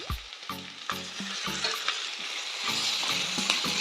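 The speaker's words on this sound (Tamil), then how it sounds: "தக்காளி நல்லா வதங்கட்டும்." Tomatoes sautéing with onion and capsicum in a pan for chilli parotta, a steady close sizzle broken by repeated scraping and stirring strokes, getting louder and denser toward the end.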